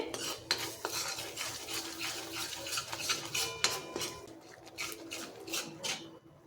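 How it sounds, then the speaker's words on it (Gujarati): Spices being stirred together in a pot for a chickpea curry produce repeated scraping and clinks of a spoon against metal over a faint sizzle, quiet and close, without talk. "અડધી ચમચી હળદર, બધું આપણે મિક્સ કરી લેવાનું છે।"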